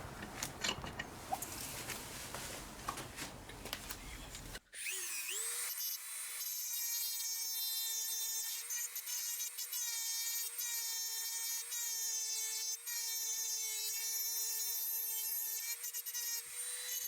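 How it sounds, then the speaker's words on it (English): A part of a Specna Arms SO2 airsoft gearbox being ground down, first with close scraping rasps, then a steady high-pitched whine of a rotary grinding tool running continuously and loud, with no talking. "let's grind this off a little bit so it becomes a little bit more easier to push down on"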